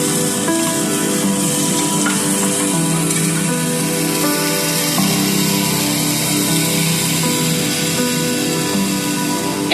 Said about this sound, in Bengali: এই যে দেখুন কি সুন্দর ভাজাটা হয়েছে মূলোটা।